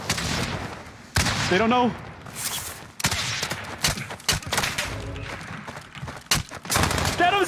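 Bursts of gunfire in Call of Duty Warzone crack out in uneven volleys and single shots across the clip, mixed with thuds and booms, while players talk excitedly over the shooting.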